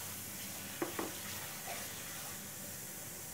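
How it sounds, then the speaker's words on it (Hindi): Dry spices such as cumin, coriander and red chili powder frying in oil for paneer corn kachori, a faint steady sizzle with a couple of brief stirring clinks, alone with no talk. "पहले अच्छी तरह से सूखा इंग्रेडिएंट्स ऑयल में फ्राई कर लेती हूँ।"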